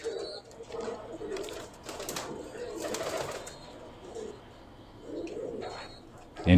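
Teddy pigeons coo in soft, repeated low bursts, close by, with faint chirps and some background voices around them.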